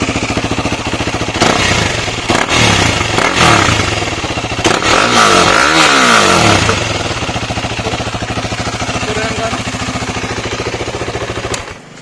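Motorcycle fitted with an SC-Project exhaust and its catalytic converter removed, revving loudly and close at hand with several sharp throttle blips, then settling into a steady, rumbling idle until it cuts off.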